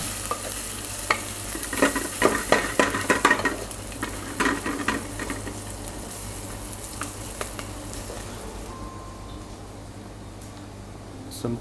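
Whole spices (star anise, bay leaves, cumin, coriander, black pepper) fry in oil in a pan for pilau rice, quick clattering stirs and a sizzle that settles down to a gentler hiss, no talking.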